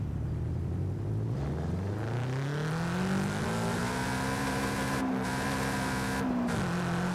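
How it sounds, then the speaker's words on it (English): A car engine in Forza Horizon 5 revs steadily higher toward and past 8,000 rpm, a loud continuous rising whine that holds near the top before briefly dipping, with no talk over it. "So I can rev higher than 8K?"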